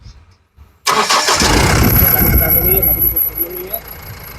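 A Mahindra Bolero BS4 pickup truck engine with a starting problem cranks and catches after a brief quiet stretch, then settles into a steady, loud idle up close, with a high whine above it.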